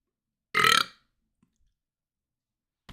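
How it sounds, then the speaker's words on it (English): One loud, abrupt burp lasting about a quarter second, close to the microphone, with near silence afterward and a faint click at the end. "I manifested a burp for everybody."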